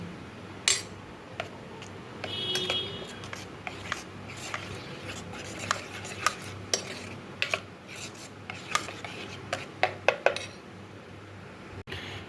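A utensil scrapes and stirs turmeric into potol dolma filling in a pan, with repeated scratchy rubs and sharp metallic clinks scattered at an irregular pace, close up.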